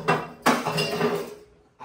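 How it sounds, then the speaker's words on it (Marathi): Dishes and metal pots clink and clatter as they are washed, a few sharp knocks with brief gaps between them, fairly quiet and close by. "अरे भांडे घासलास का काय?"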